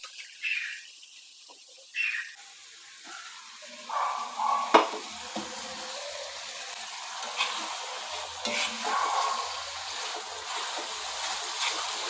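Drumsticks, raw mango and prawns fry in oil in a pan and get stirred, giving a soft continuous sizzle broken by occasional scrapes and clinks of the spoon.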